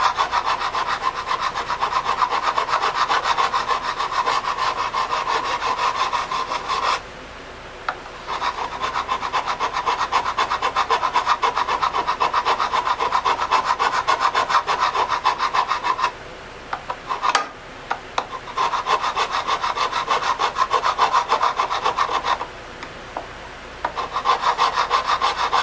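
A crowning file grinds the frets on a Strat guitar neck in steady back-and-forth rasping strokes, close and continuous, broken by a few brief pauses.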